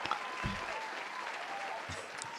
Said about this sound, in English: I think we have to shave like 4 seconds off the auto clap because at this point, I'd be tired of my own applause